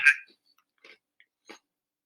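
Crunchy chocolate animal crackers being chewed close up, a loud first bite followed by a few quieter, spaced crunches in near silence.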